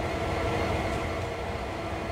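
An EMD GP38-2 diesel electric locomotive in Train Sim World rumbles steadily with a deep, continuous engine drone and a constant hum, loud and unbroken throughout.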